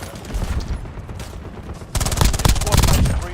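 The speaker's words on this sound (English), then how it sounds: "Already getting shot at, that's great." Rapid automatic gunfire in a Call of Duty Warzone match, bursts growing louder and denser in the second half, dense close-range shots over a busy game soundscape.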